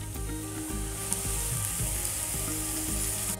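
Onion and spinach cooking with salt in a pan: a continuous, even sizzle with a faint hum underneath and occasional soft stirring noises.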